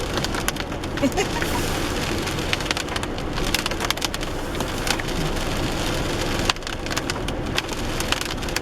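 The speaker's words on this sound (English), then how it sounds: "Still raining." Steady rain falls on a wet Pacific Northwest coast forest, an even patter and hiss with sharp drops tapping on wood, continuous and close throughout.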